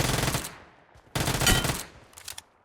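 Automatic weapon fire in a battle royale video game: two loud, dense bursts of rapid shots separated by a short pause, then a brief trailing volley, close and with no talk.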